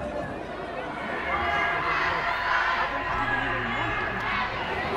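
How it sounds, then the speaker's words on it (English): Crowds gathering around Bank in London for a Gaza protest march, a dense outdoor murmur of many voices and footsteps that stays steady throughout, with a nearby speaker talking over it. "All around Bank there are crowds just spilling in."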